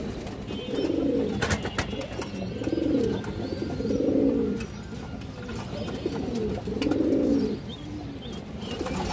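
Budapest high flyer pigeons coo in repeated soft, rounded phrases, about five close calls spaced a second or two apart, with light background rustle and no talk.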